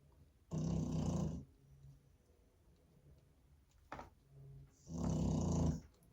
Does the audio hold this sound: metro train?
no